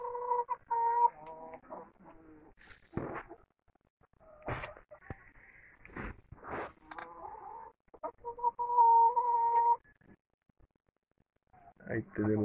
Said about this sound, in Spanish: Ahí vemos las gallinas ponedoras. Están cacareando, quieren poner su huevo.